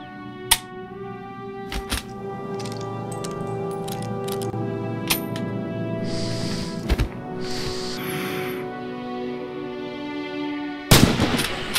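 Rifle shots ring out at intervals during target practice in the video game Red Orchestra 2, set at Stalingrad, with sharp cracks followed by mechanical bolt clicks and handling noises over a steady game background hum.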